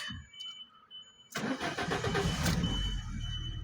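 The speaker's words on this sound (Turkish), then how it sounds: "Araç tek marşta sorunsuz olarak çalıştı arkadaşlar." A car engine that had been refusing to run on petrol, earlier needing seven or eight long cranks, fires on the first crank after a quiet pause. It then settles into a loud, steady idle with no talking.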